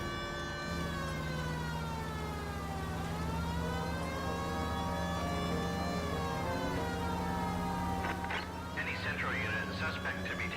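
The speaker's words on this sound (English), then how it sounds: "I have a siren on." A wailing police car siren in the video game L.A. Noire rises and falls steadily over engine hum, loud and continuous, with a voice speaking over it near the end.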